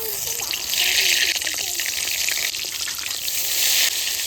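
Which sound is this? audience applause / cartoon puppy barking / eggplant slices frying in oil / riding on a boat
eggplant slices frying in oil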